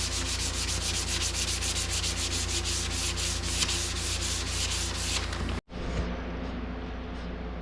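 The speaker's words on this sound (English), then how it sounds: "So I'm basically just going to block this down a bit with 220" Sanding primer-coated car bodywork with 220-grit paper on a block, a steady dense abrasive rasping that runs continuously and close, with a brief break near the end before it resumes.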